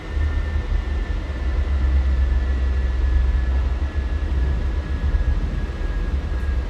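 Avro Vulcan jet engines at idle during landing in a flight simulator make a dense, steady low roar with a faint high whine running through it, loud and unbroken.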